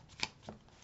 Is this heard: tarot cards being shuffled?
yes